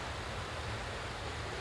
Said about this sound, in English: It's usually very, very quiet here, except for the crashing waves.